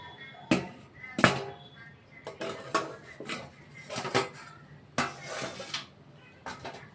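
A metal lid comes off a pot of Kuska biryani, giving a series of distinct clanks and scrapes. Roughly eight sharp, close metallic knocks are spaced irregularly over several seconds, with quiet moments in between.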